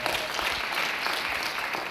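Church congregation applauding, dense steady clapping from many hands, loud and continuous for the whole stretch with no voices standing out.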